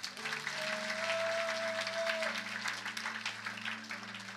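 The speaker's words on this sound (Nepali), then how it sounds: "प्रभु महिमाका ताली दिउँ।" A congregation at the Joshua camp meeting in Tanahun claps steadily at moderate distance, the applause fairly soft over sustained musical tones.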